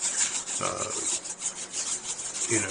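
An emery board sanding plastic in an upcycling art project, a close, steady scratchy rasp of repeated short strokes, fairly loud, with no talking.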